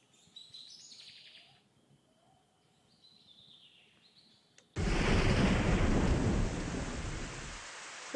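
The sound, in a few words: thunderstorm with thunder and rain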